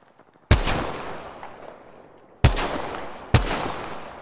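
Three loud, close gunshots fire from enemy players in Apex Legends, spaced unevenly with a long pause after the first, each blast trailing off in a fading echo.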